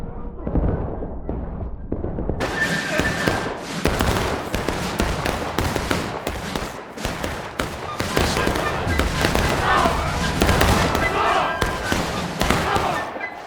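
Musket volleys from the Civil War video game War of Rights crackle in dense, overlapping bursts of gunfire, with shouting players and battlefield commotion mixed throughout the steady din.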